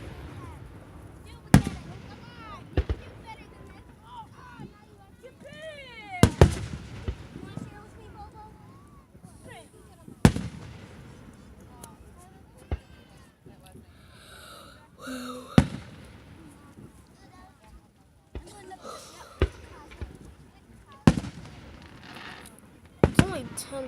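July 4th fireworks burst with sharp loud bangs at irregular intervals, some whistling launches among them, while people talk and react between the explosions.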